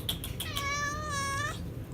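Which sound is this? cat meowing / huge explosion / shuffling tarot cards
cat meowing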